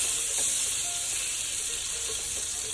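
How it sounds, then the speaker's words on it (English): Butter melting in a hot skillet gives a steady, soft sizzle and hiss, quiet and even throughout with no voices. "Adding some butter to a skillet, letting it get all melted and nice and buttery."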